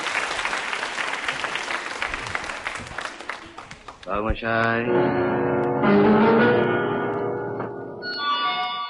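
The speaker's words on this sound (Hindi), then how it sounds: "तालियां बजाइए उनके सम्मान में" Studio audience at a Hindi television quiz show, held with a women's polytechnic college, bursts into loud, dense applause for about four seconds before a song with singing starts over it.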